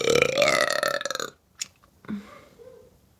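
One long, loud, drawn-out burp that lasts more than a second, followed by a short pause and faint voices nearby.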